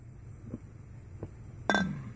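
Two soft taps sound on a porch, then one bright, ringing clink as glasses meet in a toast, heard close over quiet background hiss.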